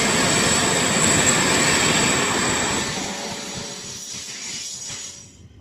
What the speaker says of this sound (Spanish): Varios cazas están rodando, aviones de ataque A-10 están en el aire, están despegando.